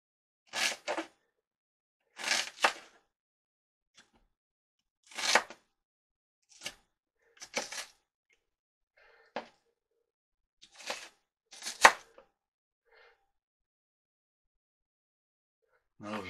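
Knife chopping onions for meatloaf on a cutting board, coming in short separate bursts of rapid strokes with quiet pauses between them.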